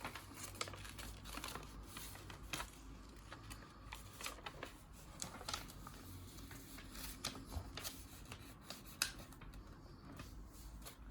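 Paper is folded and creased into a paper airplane, giving soft, close crinkling and sharp rustles in quick, irregular bursts with no talking.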